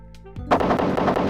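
Gunfire in the video game Operation: Desert Storm, a loud burst of rapid shots with booming blasts, close and punchy, following a brief soft electronic tone.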